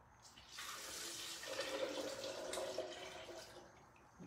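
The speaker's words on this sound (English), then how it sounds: "now I'm gonna add the 4 cups of water" Four cups of water pour steadily into a pot, a continuous splashing rush that swells slightly in the middle, close by and alone.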